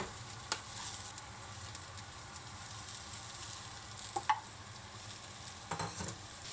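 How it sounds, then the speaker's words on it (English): Onions, carrots and other vegetables stir-fried in oil in a pan for yakisoba, giving a soft, steady sizzle with occasional sharper scrapes and clacks of stirring, fairly quiet and without voices. "begin by stir-frying the vegetables"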